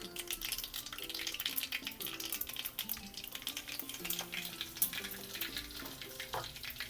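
Mustard seeds, cumin and curry leaves fry in hot oil, giving a steady close sizzle with scattered crackles and pops throughout, and no voices over it.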